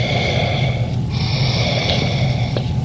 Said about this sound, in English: The prison doors opening sounds like Darth Vader breathing.